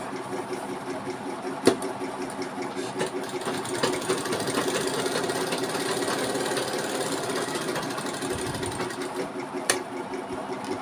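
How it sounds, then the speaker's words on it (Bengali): A sewing machine stitches a strip of fabric for a hook placket, a continuous close mechanical whirring with rapid needle chatter and a couple of sharp clicks near the start and end. "পাশে আর একটা সেলাই দিয়ে দিলাম।"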